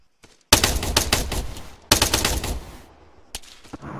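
Bursts of automatic gunfire in a military video game, loud and close, in two long rapid volleys followed by a shorter burst, with no talk over it.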